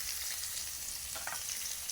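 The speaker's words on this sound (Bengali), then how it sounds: "এখানে ডিমগুলো দেখুন কি সুন্দরভাবে লাল লাল হয়ে একদম ভাজা হয়ে গিয়েছে" Eggs fry in a small amount of oil in a village kitchen, giving a steady, close, even sizzle with a few brief spatters and no voices.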